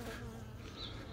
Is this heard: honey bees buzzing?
yes